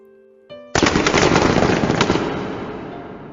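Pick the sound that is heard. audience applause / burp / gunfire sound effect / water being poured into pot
gunfire sound effect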